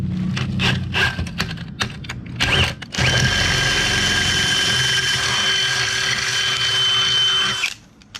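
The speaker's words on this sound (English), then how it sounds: "we have marked holes that we're gonna drill on both mounting brackets" A power drill boring holes in radiator mounting brackets for an LS-swapped BMW E30: short bursts of whirring and scraping, then one long, steady drilling run that stops abruptly.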